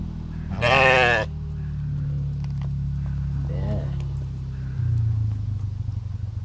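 A mouflon at a zoo park gives one loud, nearby wavering bleat, then a shorter, fainter call follows, over a constant low rumbling drone with a person speaking briefly.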